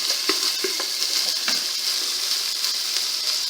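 Garlic, onion and bay leaf frying in an oiled pan, a steady close hiss of sizzling with a few soft clinks of stirring near the start.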